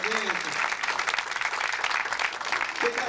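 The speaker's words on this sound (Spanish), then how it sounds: "Aplauso fuerte para el señor por la palma." Applause at a family party in Peru fills the moment with dense, continuous clapping from a group, loud and close, while a voice speaks briefly at the start and end.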